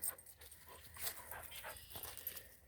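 Dog on a walk, a faint quick panting with short soft whimpers and yips in bursts, close but quiet, with no talking.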